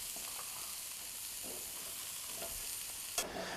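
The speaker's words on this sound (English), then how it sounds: "I will saute some onions that I've diced and some nice hearty mushrooms, and we'll saute those until the vegetables have softened" Diced onions and hearty mushrooms sautéing in butter, a faint, even sizzle with a few soft stirring scrapes and one brief clink near the end.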